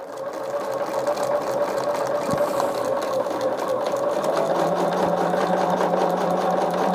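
Sewing machine stitching quilt strips onto 10-inch foundation paper, a steady continuous mechanical whir and rattle running close and loud throughout without pause.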